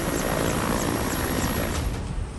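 An air force helicopter flies over snowy, high-altitude Lahaul-Spiti in Himachal Pradesh, its rotor and engine making a constant, fairly distant whirring roar with no voices.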